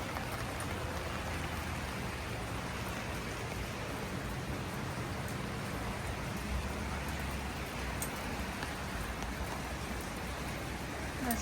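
Heavy rain falls steadily on a garden with chrysanthemums, geraniums and small trees, a dense, even hiss with occasional closer drips that carries on without a break and without any voices.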